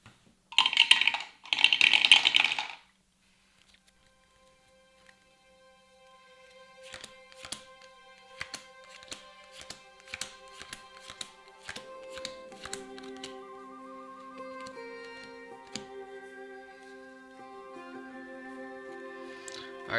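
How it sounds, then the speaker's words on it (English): Automa cards for the Wingspan board game being shuffled at a table, two short bursts of riffling cards up close, followed by quieter tapping and clicking with faint musical tones. "we shuffled the Automa cards"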